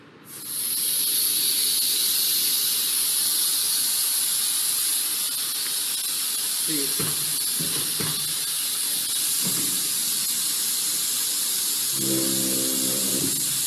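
Compressed air ejecting parts from an SLM/SLS metal powder printer: a loud, continuous high hiss of gas that starts abruptly and holds steady, with faint mechanical clunks partway through and a low tonal drone near the end.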